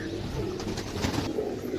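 Soft, low pigeon cooing repeats through the short clip, close by over a faint background hum.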